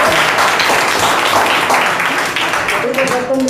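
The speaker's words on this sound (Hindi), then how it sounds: "तालियां बजाओ पहले" Steady applause from the audience at a school Republic Day celebration continues throughout, with a voice speaking loudly over the clapping.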